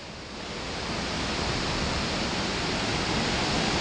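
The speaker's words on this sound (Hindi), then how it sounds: "यहाँ से देखें एक ग्लेशियर के साथ एक नाला ऊपर से आ रहा है।" A glacier-fed stream pours down a mountainside near Ratti Gali in Neelum Valley, making a steady, full rushing roar that swells slightly and continues without a break.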